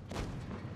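Heavy tank cannon of the Maus firing in a tank video game, a single deep booming blast with a rumbling low tail, loud and close.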